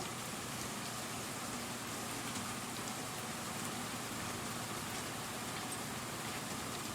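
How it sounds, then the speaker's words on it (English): Rain falling in the Cemetery Mary game, a steady even hiss of rainfall with a soft patter, constant and unchanging throughout with no voices. "I can see that it's raining, Mary."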